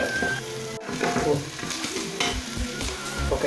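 Onion, garlic and ginger sautéing in a pan for chicken biryani, a continuous close sizzle with stirring scrapes throughout.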